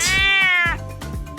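A domestic cat gives a single drawn-out meow, loud and close, with a falling tone, followed by a softer trailing cry.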